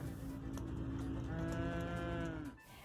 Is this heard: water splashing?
no